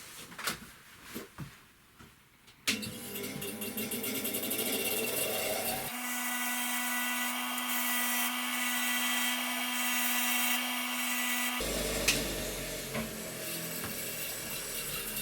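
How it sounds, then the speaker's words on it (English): A wire wheel on a grinder whirs up to a steady high whine while cleaning a bolt on a Honda Vision 110 scooter, close and continuous, the pitch dipping as it bites, after a few light taps at the start. "I love two things about that wire wheel on that grinder unit. Firstly, it brings the bolt up really nice"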